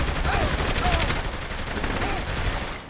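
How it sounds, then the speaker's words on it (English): Submachine gun fire in Saints Row: The Third, rapid bursts of close gunshots rattling densely over about three seconds, with a voice talking faintly underneath. "Ooh, my submachine gun."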